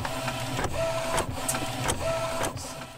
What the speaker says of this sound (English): So the printing takes about 5 minutes to do each print.